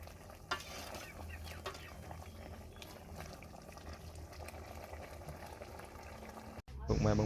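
Sour chicken soup with vegetables and trakuon simmering in a covered pot, a steady low bubbling and stirring texture at moderate volume, with a brief clatter near the end as the lid shifts.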